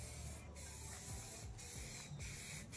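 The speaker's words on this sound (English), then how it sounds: "Just rattle can that thing." An aerosol spray-paint rattle can hisses in several steady bursts with short gaps between them, close and loud, and no voices are heard.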